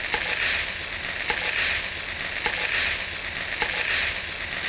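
Hunan fried rice being gently tossed and stirred in a hot pan, a steady sizzling crackle with soft regular scraping strokes roughly every second, close and even, no talk over it.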